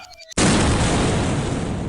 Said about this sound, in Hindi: बम में आग लगाकर पीछे की ओर उछाल देता है और फिर एक धमाका